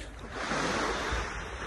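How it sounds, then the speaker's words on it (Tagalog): Ocean surf washes steadily against a quiet shoreline in a soft, continuous rush, with light wind noise on the microphone and no voices. "Dito mag-grind sa dagat, tahimik, maririnig mo lang huni ng alon."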